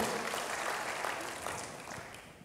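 Church congregation clapping in praise during a sermon, a fairly quiet, dense wash of applause that slowly fades over two and a half seconds.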